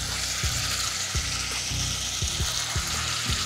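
Cauliflower hits a pan of sizzling onions during a tandoori chicken side preparation, giving a loud, continuous frying hiss up close with periodic scraping clicks from a stirring utensil, with no voices.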